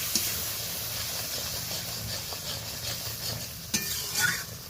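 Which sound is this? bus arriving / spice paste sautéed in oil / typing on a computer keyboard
spice paste sautéed in oil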